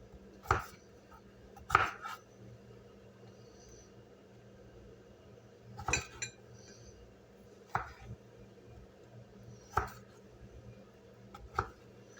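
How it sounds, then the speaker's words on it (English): A knife chopping cooked chicken on a cutting board for a Chinese chicken and broccoli dish, first into slices and then into dice: sharp, distinct chops spaced a second or two apart, each one close and clear against a quiet kitchen. "So we'll chop it to a manageable piece, slices, and then dices."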